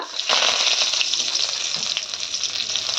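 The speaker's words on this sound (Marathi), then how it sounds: "कढईमध्ये सगळ्यात पहिला तडका गेला तो मोहरीचा नंतर जिरी नंतर कढीपत्ता" Mustard seeds, cumin and curry leaves hit hot oil in a kadhai for a tempering, giving a loud, close, crackling sizzle that spits and pops continuously for the whole stretch without any talking.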